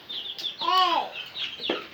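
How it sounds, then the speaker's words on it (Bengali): Tiger chicken chicks giving a few short, high chirps and one longer, rising-falling call, soft and near, spread over about two seconds. "এই যে মুরগির বাচ্চা, এগুলা তো শিকারি হয়ে গেছে গা"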